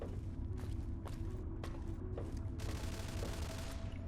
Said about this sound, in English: Probably a 10mm SMG that guy's firing.